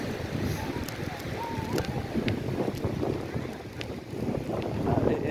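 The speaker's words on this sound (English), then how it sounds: "Wind's blowing." Wind blows across Fort Myers Beach, Florida, during a bicycle ride along the shore, making a loud, steady, gusty roar with heavy low rumbling buffeting throughout.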